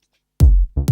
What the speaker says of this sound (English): going to my bass drum, it sounds like this.